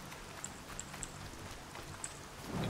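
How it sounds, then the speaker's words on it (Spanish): Steady, quiet rain from the Horizon Zero Dawn video game, a soft continuous patter with a few brighter drop ticks scattered through it. "La lluvia suena como si fuera un redoble de tambor"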